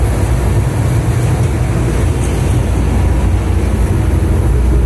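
A small motor river boat on the Moscow River hums with a loud, steady low engine drone and rushing water, unbroken throughout with no voices.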